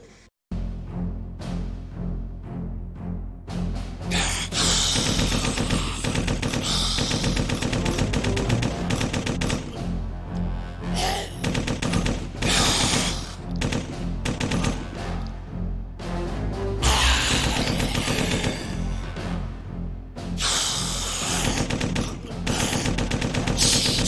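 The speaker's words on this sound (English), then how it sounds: "Shooting, brah." Zombies shot in the video game Corpse Killer, heard as rapid bursts of gunfire, loud and close, repeating in clusters with brief gaps between volleys, over a steady low background hum.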